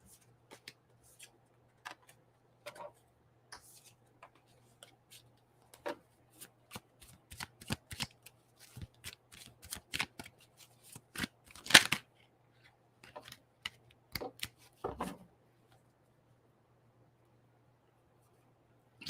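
Tarot cards being shuffled by hand, with irregular bursts of crisp riffling and flicking snaps against a quiet background with a low steady hum, close and fairly soft, with no talking.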